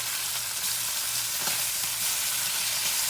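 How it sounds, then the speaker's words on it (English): Steady sizzling and crackling of ham frying in a pan, continuous and close, with no talking. "Frying ham makes a mess"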